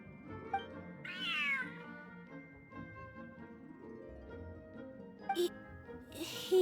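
A cat meows in the fantasy adventure game Genshin Impact, one clear rising-and-falling meow over soft game music and ambience, followed by a few brief clicks and chimes.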